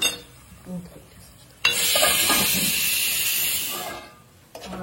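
A pav bhaji mixture with tomato paste sizzles in oil in a pan as it is stirred. A loud frying hiss swells for a few seconds with occasional scraping, and a voice is heard faintly around it.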